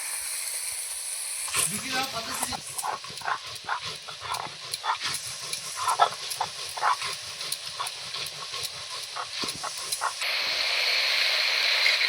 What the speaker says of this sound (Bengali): তো আমি শিলনোড়ায় বেটে নেব